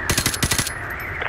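Automatic gunfire in the Modern Warfare 2 Remastered campaign rattles out as a rapid burst of about six close, sharp shots, then drops to quiet game ambience.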